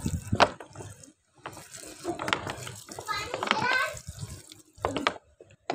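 Water is poured onto a potted plant, splashing and trickling in short spells while children chatter loudly nearby.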